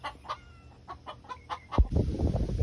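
Chickens cluck in short, repeated bursts at a moderate distance, then a sudden low thump and rustling scuffle take over.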